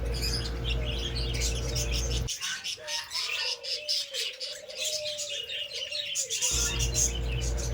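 A budgerigar colony kept in an aviary in summer, many small birds chirping and chattering together at once, with a dense overlapping twitter and a few clearer warbling calls near the middle.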